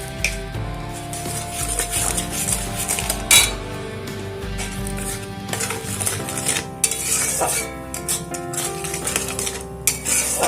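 A spoon clinks against a bowl or pan as about three spoonfuls of sugar go into raw mango paste, bright metallic taps and scrapes scattered over a busy kitchen backdrop, with no talking.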